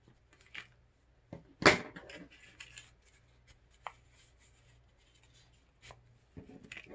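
Scissors trim excess paper from a craft piece in a few quiet snips and rustles, with one sharper cut standing out amid soft handling noises and long pauses, no talking.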